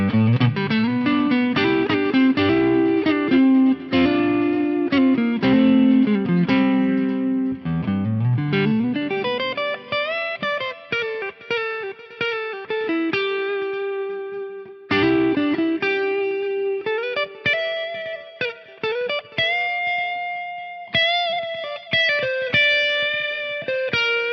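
A Fender Stratocaster played through a Flamma FX-200 multi-effects pedal on a clean preset rings out alone in chords and melodic runs, close and clear with a touch of effect shimmer and occasional pauses between phrases.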